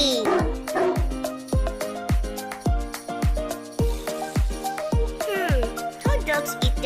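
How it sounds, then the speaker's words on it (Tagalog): A crossbreed Pitlock dog barks close by in a quick, regular series of sharp, loud barks with a few yips and whimpery edges, and no other sound competes with them. "Meet our crossbreed Pitlock dog, Ben and Bella"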